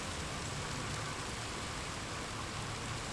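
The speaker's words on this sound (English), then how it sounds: "It's starting to rain," Steady, even hiss of rain falling across the whole stretch, a broad wash of noise with no voices or distinct drops standing out.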